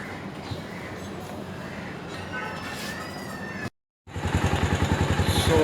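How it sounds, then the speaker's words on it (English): A Bajaj Avenger motorcycle engine starts and settles into a close, steady idle with a fast rhythmic putter, loud after a brief silent gap, with a voice faintly present earlier. "I've started the bike"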